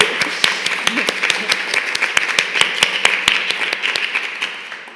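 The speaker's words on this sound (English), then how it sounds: "Rosalyn D'Mello and, applause, definitely" An audience applauds two guest speakers at a talk, with scattered, sharp individual claps ringing out over a softer, continuous bed of clapping, fairly close and loud.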